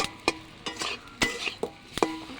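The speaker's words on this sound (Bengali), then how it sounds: "আর এই ঝিঙের সঙ্গে ভাজছি।" Fish roe and ridge gourd fry in a pan tempered with black cumin and dried red chilli, while a spatula stirs and scrapes in a few sharp, close clacks over a soft, steady sizzle. No one speaks.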